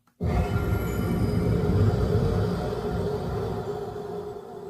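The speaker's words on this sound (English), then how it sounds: "Let's import the Elden Ring death sound." Elden Ring video game death sound: a sudden dense, rumbling swell that starts abruptly and sustains as a dark, roaring drone, slowly fading, with no talking.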